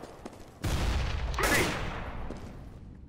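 AK-47 rifle fire in CS:GO, a sudden loud burst of shots with a second sharp blast about a second later, the reverberating noise then trailing off.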